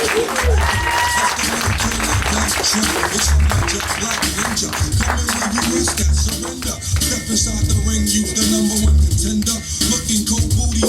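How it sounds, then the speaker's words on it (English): Steady applause from a crowd fills the whole stretch, dense clapping mixed with murmuring voices and some cheering, fairly loud and continuous. "Let's get a round of applause going for Brian Callaghan."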